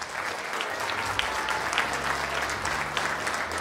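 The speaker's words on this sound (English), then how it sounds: "a big round of applause for our second grade explorers" An audience applauds second grade performers at a school winter concert, steady dense clapping from a crowd filling the whole stretch with a faint low hum beneath.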